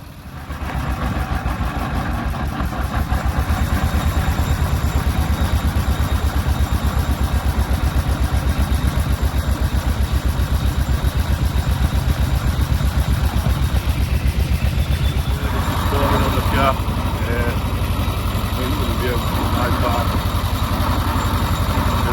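A veteran car's engine idles loud and close before the start of the 2023 London to Brighton Car Run, a steady rapid chugging throb that runs unbroken throughout while a person speaks over it.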